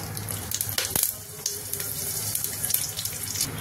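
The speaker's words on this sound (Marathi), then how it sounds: "2 चमचे तेल टाकायचंय आणि थोडा धुवून कढीपत्ता टाकायचाय" Curry leaves drop into about two spoons of hot oil in a pan, giving a steady, bright sizzling hiss with small crackles throughout, close up and without talk.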